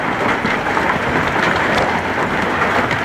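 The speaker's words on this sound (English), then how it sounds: "Easily 1 inch hail." Inch-sized hailstones hammer down in a Lincoln, Nebraska hailstorm, a continuous loud rattling roar of countless impacts with no pause.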